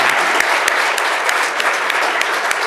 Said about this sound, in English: Let's just give them a quick round of applause for all of them.